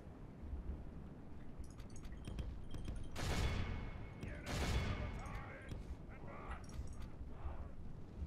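Massed gunfire from troops in the Game of Thrones Total War video game, with scattered shots and two loud bursts of volleys over a continuous battle din.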